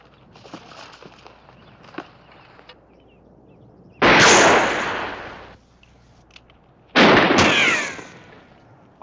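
Two loud rifle shots from a Western-frontier gunfight, each a sharp blast with a long, ringing decay, about three seconds apart and following a stretch of quiet footsteps and rustling.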